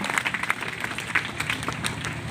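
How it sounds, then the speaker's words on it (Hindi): Schoolchildren applaud a student in a classroom at Insan School in Kishanganj, with scattered, uneven hand claps rising and falling at moderate loudness. "वेरी गुड, तालियां बजाइए इस बच्चे के लिए"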